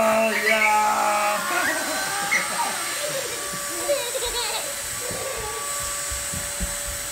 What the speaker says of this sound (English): I bet your vacuum's really full now.